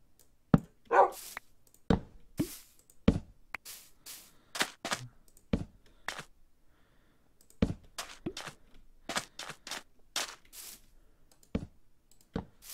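Dog sounds in a Minecraft barn, a string of sharp short barks and whimpers at uneven intervals, fairly close and clear with no talk.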